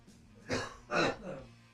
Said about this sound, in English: you just have to cough really bad